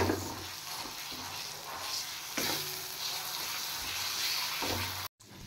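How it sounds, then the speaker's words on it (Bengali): Spices with turmeric, salt and chili powder, then chopped tomato, sizzle and fry in a pan, a steady close crackle with stirring scrapes, ending in a brief cut of silence near the end. "এবার একসাথে ভালো করে আবার ফ্রাই করে নেব।"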